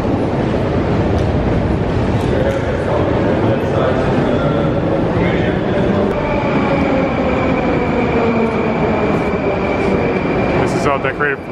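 A Moscow metro train roars through a deep underground station, a loud, steady rumble and rattle of wheels with squealing tones, and a voice talking underneath.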